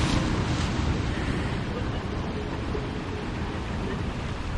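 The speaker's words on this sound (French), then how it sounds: "entendre le bruit des vagues" Ocean waves wash onto the beach at Santa Monica in a continuous, loud roar of surf mixed with wind rumble, with no distinct breaks between waves.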